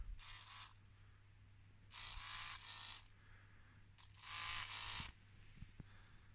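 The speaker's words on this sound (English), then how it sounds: "So at least the power valve servo is working." The power valve servo on a 2006 Yamaha DT125RE two-stroke motorcycle whirs in three short electric bursts separated by pauses, quiet and close, with a faint steady hum beneath and no talk.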